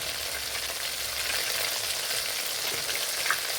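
Oil sizzles steadily in a pan, three tablespoons of oil left from frying chicken for chicken kondattam, a dense, even crackle that is close and constant, with no one talking.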